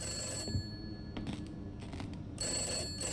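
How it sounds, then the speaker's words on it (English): A telephone rings in a creepy summer-camp horror video game set in 1958, two bursts of an electronic bell ring at the start and end separated by a quieter gap with faint shuffling, no talking. "This one's ringing, though. No, I think it's the phone out there."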